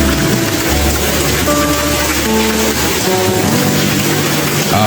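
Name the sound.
heavy afternoon rain in front of a house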